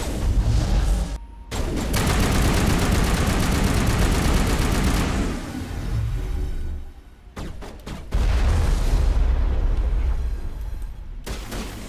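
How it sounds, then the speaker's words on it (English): Dense Mass Effect combat with a sustained barrage of gunfire and booming blasts, including a grenade explosion, loud and continuous with brief drops between volleys. "Oh, grenade, grenade, grenade."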